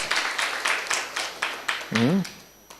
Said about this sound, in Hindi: अपने लिए जरा जोर से तालियां बजाइए।